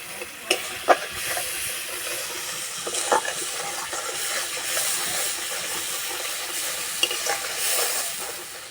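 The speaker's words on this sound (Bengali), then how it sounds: "একটু সময় ধরে মশলাটা খুব ভালো করে কষিয়ে নিতে হবে" Spice paste with ginger paste frying in a pan, a continuous bright sizzle and hiss with occasional sharp spoon scrapes and taps, close up and alone.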